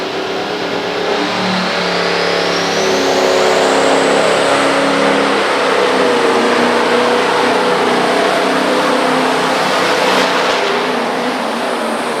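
A Mack pulling truck, built in Allentown, Pennsylvania with a Hagerstown, Maryland engine and transmission, roars at full throttle during a truck pull at the Great Frederick County Fair, a loud sustained revving drone that holds for the whole stretch.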